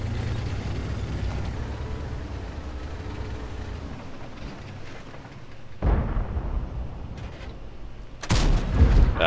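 A World of Tanks tank cannon fires and its shell strikes an enemy tank's mantlet, heard as a low rumbling engine bed broken by two sharp, loud blasts near the middle and end.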